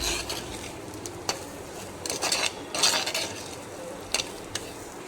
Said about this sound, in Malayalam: എന്നിട്ട് ഇതെല്ലാം ഒന്ന് എണ്ണയിലിട്ടൊന്ന് ഇളക്കി കൊടുക്കാം.